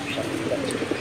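A pair of pet pigeons coo softly in a low, rounded murmur, close and continuous over a quiet indoor background.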